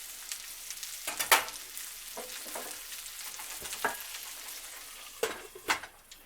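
Large shrimp and garlic sizzle in a pan for a lemon garlic shrimp pasta, a quiet steady crackle broken by a few sharper pops and stirring clatters.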